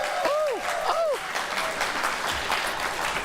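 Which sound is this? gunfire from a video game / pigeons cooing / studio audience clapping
studio audience clapping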